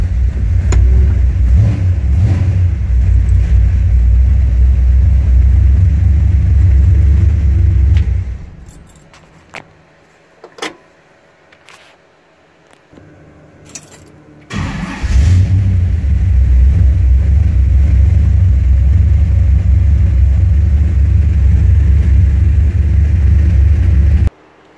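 A 1960 Brookwood station wagon engine idles with a loud, steady low rumble, cuts out for several seconds amid small clicks and jangling keys, then restarts and settles back into the same close idle.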